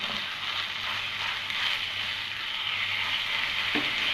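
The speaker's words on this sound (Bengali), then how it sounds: "আদা রসুনের কাঁচা গন্ধ চলে যাওয়ার পর এতে আমি আগে থেকে ম্যাশ করে রাখা চিকেনটা দিয়ে দিলাম" Mashed chicken fries in a pan with ginger and garlic, giving a steady, close, even sizzle with faint stirring scrapes and no voices.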